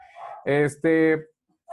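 Small dogs indoors let out two drawn-out, close yelping barks in quick succession, followed by a brief further yelp.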